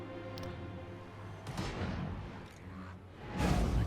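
Artillery fires in a Total War Warhammer 2 battle, several dull booms and whooshing shots spread across a few seconds over a steady rumbling battlefield bed, fairly distant and without talking.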